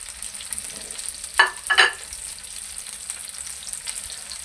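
Three large chopped onions fry in ghee for bhindi sabzi with a steady, close sizzle, broken by two quick stirring scrapes and with no talking.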